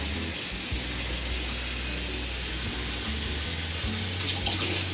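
Tap water runs steadily into a basin or tub, filling it for a newborn's first bath: a continuous close hiss and splash with no pauses, fairly quiet, with no talking over it.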